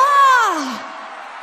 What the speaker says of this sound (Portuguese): Cadê o gritinho da galera?